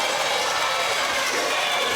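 An arena crowd at a combat-sports fight tournament in Atlanta roars steadily, a broad sustained cheer that holds at an even level throughout.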